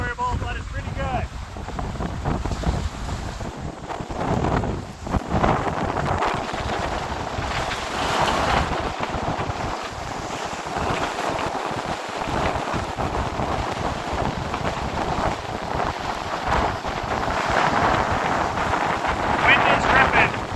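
Strong, steady wind roaring across a microphone during a winter storm on the Lake Superior shore in Minnesota, loud and constant, with a voice speaking over it.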